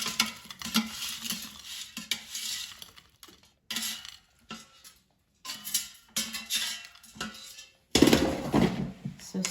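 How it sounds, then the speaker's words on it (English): Cheese curds are lifted out of an air fryer basket with a series of clinks, rattles and scraping handling noises separated by short silences, ending in a louder clatter. "Let me take them out of the air fryer."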